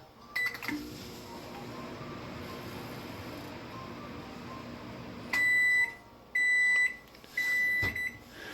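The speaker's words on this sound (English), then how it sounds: "just 5 seconds on the microwave" A household microwave oven powered from a DIY home battery power wall hums steadily, then gives three loud, sharp beeps in quick succession near the end.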